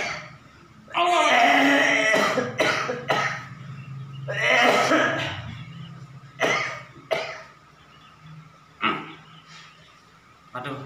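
A person with a cough of several years coughs repeatedly, harsh, throaty bursts in irregular clusters with throat clearing between them, close and loud, followed by quieter single coughs spaced several seconds apart.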